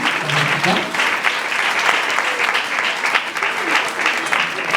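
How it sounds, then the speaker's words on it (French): Warm applause from a church congregation at an anniversary celebration, dense continuous clapping from many people that holds steady and fairly loud for the whole stretch, with a voice briefly audible near the start. "Encore une fois, on nous applaudit très chaudement pendant que nous avons demandé de reprendre la chose."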